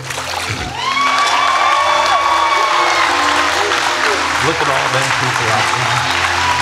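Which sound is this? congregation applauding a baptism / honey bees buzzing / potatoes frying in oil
congregation applauding a baptism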